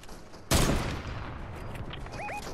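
A gunshot in Fortnite cracks out loudly once, then trails off into echoing game ambience with a few faint clicks and beeps afterward.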